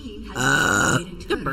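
A woman lets out one loud, close burp lasting about half a second, and a short vocal sound follows right after it.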